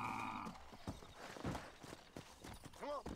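Hoofbeats of a horse in the video game Red Dead Redemption, irregular and fairly close, with a held tone at the start and a brief whinny-like call near the end.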